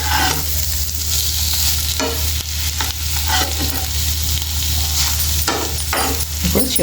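Egg fry sizzling in an oiled pan, a dense close crackle with periodic scrapes and clacks of a spatula stirring and turning the pieces.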